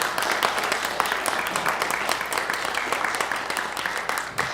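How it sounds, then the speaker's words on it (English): A concert audience claps for the musicians of a chamber ensemble, a steady, moderately soft patter of many hands that keeps going and fades slightly at the end. "Let's call another round of applause."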